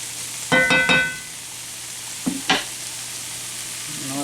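Beef stroganoff mixture is stirred in a frying pan, with a few quick scraping strokes over a low background sizzle, then a pause and two more brief scrapes.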